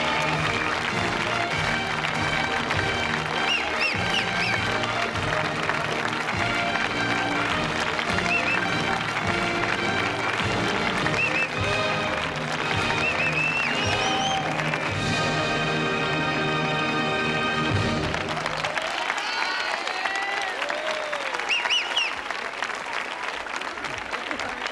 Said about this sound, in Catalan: anem a rebre amb un aplaudiment el nostre convidat d'avui